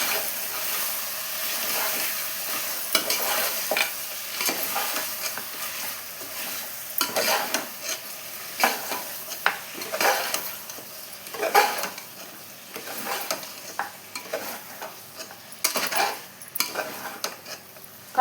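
Half a kilo of mutton pieces stirred in a pan for mutton dum biryani: a continuous sizzle under frequent rhythmic scraping and clinking of a spoon against the pan, up close with no speech.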